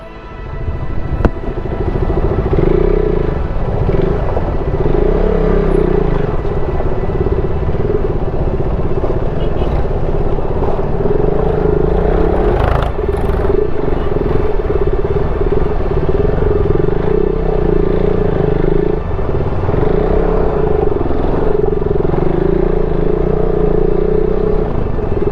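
An off-road vehicle climbs a rough mountain road in Mustang, Nepal, its engine droning loudly and revving up and down with the terrain, along with occasional clatter and rattles.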